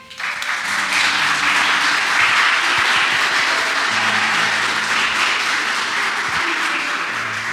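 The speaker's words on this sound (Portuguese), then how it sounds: "Vocês podem aplaudir mais uma vez?" A crowd of teachers' guests claps in sustained applause at a church-style gathering, dense and steady throughout with occasional louder bursts, no talking over it.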